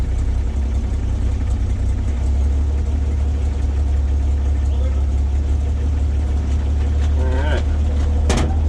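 A 1937 Chevy car engine idles just after startup with a steady, loud low rumble that runs unbroken throughout, and a brief voice sounds near the end.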